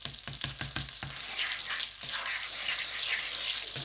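Semolina sizzles and fries in hot melted butter for sooji halwa, with a few quick stirring scrapes at the start before the steady close crackle continues on its own.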